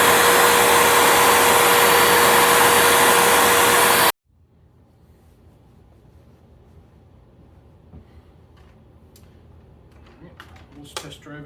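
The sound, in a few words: vacuum cleaner running with suction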